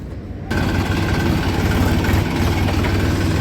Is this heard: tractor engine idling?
yes